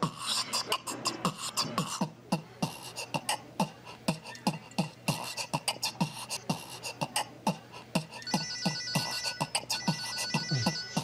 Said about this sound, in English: Her phone blowing up.